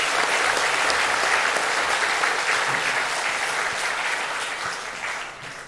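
A church congregation at a dedication service applauds three people, a dense, loud, sustained clapping that swells and then slowly tapers off, heard close with no talk over it.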